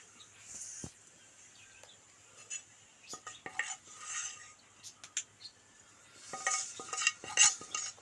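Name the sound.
spoon scooping cooked dal into pressure cooker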